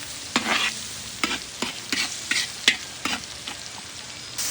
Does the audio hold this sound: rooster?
no